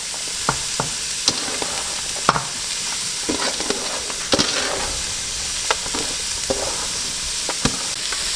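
Popiah filling being tossed and stir-fried in a pan, a steady close sizzle with scattered clicks and scrapes of the utensil against the pan and soft stirring rustles throughout, no voices.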